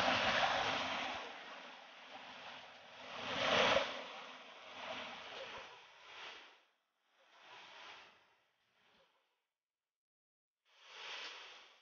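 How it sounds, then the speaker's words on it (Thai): Rushing water from the Rainbow Waterfall in Phang Nga, Thailand, a broad steady roar that swells and fades in bursts, dropping out briefly between surges. "ฟังเสียงน้ำตกกับน้ำตกสายรุ้งกันค่ะ"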